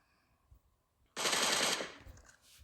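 A burst of rapid automatic gunfire from an online shooter game erupts after a second of near quiet, loud for about a second before trailing off, with no voices.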